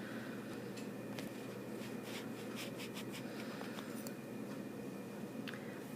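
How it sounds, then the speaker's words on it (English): A pencil eraser rubbing over shaded regions of a graph on paper, a soft continuous scrubbing with brief faint strokes, close and alone. "I'm going to erase what has not overlapped thus far"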